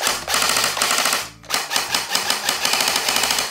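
Krytac P90 airsoft electric gun firing full-auto bursts, a loud, close, rapid mechanical rattle with one brief pause before the fire resumes, no voices.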